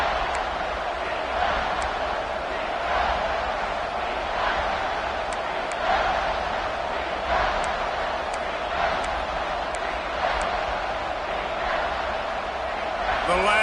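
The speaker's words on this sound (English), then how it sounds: "Crowd getting this defense whipped up on 3rd down." A large stadium crowd at a college football game against Tennessee keeps up a continuous loud roar, with an announcer's voice talking over it.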